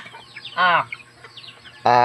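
A live chicken clucking in two short, loud bursts, close by, with quiet background between the calls.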